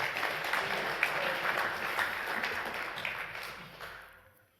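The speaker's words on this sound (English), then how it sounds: "Give Jack a round of applause." A live audience applauds a man named Jack after a talk, a dense wash of many hands clapping that slowly fades away.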